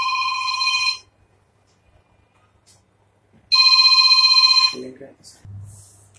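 A telephone rings loud and close with a shrill electronic trill in two long bursts separated by silence, followed by a brief voice and a low thump.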